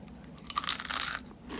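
Crunchy delivered fried chicken being bitten and chewed up close on a rainy day, with a cluster of crisp crunching bursts in the middle of a short, quiet stretch.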